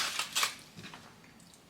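A Terry's chocolate orange is smashed apart on a kitchen surface, giving a few sharp, close cracking impacts followed by quieter crumbling crunches.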